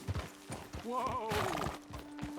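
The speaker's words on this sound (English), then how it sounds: "Best leave the horses back a bit." Horses in Red Dead Redemption 2 give a wavering whinny over steady clip-clop of hooves on a trail, close and fairly loud, with a voice talking over them.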